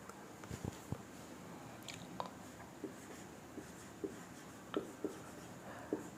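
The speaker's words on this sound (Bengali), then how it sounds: "আমি জাস্ট শর্টে লিখছি" A marker or chalk writes a short question on a board during a direction-test lesson, giving faint, scattered taps and scratchy strokes in an otherwise quiet room.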